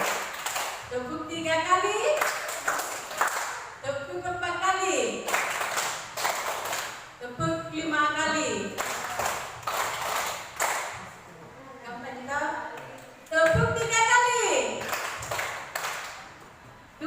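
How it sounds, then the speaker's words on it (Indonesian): Students in a classroom game at a junior high school in Bangkala clap their hands together in short counted bursts, led by a voice calling out between rounds, with pauses separating each group of claps. "Tepuk 1 kali. Tepuk 2 kali."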